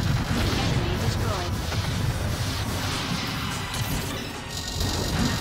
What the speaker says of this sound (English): There's a lot of lasers they're shooting at me